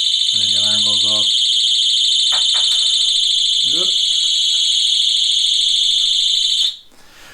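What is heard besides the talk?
Oxford Boss disc lock alarm going off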